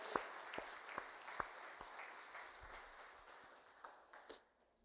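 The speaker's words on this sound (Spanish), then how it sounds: "Denle un aplauso de alabanza al Señor" Church congregation applauding in praise of the Lord: a faint, scattered patter of clapping with a few distinct louder claps, rather quiet and thin, fading out at the end.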